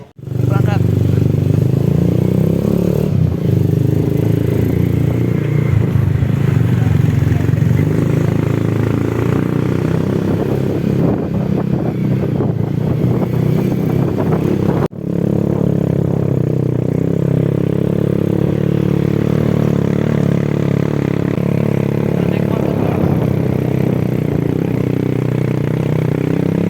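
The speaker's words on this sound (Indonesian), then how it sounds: "Ini untuk keberangkatan ke gerbang naik ojek" A motorcycle taxi (ojek) engine runs steadily and loudly up close on a ride toward the mountain trail gate for Gunung Sumbing via Batusari, with rattling and clatter throughout and brief voices over the drone.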